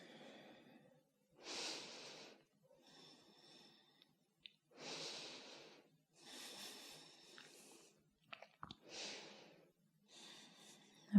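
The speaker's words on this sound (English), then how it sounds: "just deepening the breath, about 5 more breaths here" Slow, deep breaths during restorative yoga: about five long inhale-exhale swells separated by quiet pauses, close and clear, with no talking.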